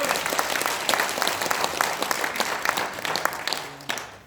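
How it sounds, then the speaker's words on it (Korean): Audience applause fills an assembly hall at an annual general meeting, a dense, continuous burst of many hands clapping for a few seconds with no talk over it. "큰 박수 부탁드립니다"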